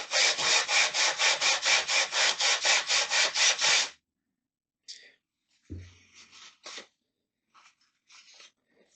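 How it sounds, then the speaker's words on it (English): Scrubbing a flat cast iron cylinder with WD-40 on a 1971 Yamaha Mini Enduro, a loud rhythmic back-and-forth rasping of about fifteen quick strokes, followed by scattered lighter scrapes and taps. "you just give it a little squirt of WD-40 and just a little bit of a scrub"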